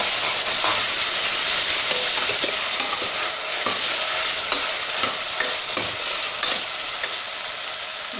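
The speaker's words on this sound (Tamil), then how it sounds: "கொஞ்சம் லைட்டாக ஃப்ரை ஆகட்டும்." Cut large potatoes frying in a pan for a Kerala potato curry, a loud continuous close-up sizzle and hiss with regular scraping strokes of a spoon stirring through them, no voices.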